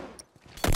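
A tactical shotgun fires in The Last of Us DLC, one loud broadband blast near the end of a short stretch of quieter game noise, with no talk.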